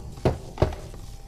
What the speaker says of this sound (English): So let's knock on the barrels here.